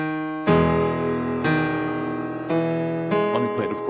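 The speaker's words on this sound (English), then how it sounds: "eventually this big monster guitar riff comes in" A heavy, distorted electric guitar strikes four big sustained power chords of a riff, each ringing out before the next, with a brief wobbling flourish near the end.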